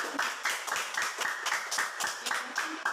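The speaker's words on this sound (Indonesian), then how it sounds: "Oke, tepuk tangan buat." Classroom of pupils clapping hands together, a fairly dense run of sharp claps with a steady rhythm, close and moderately loud, with no talking over it.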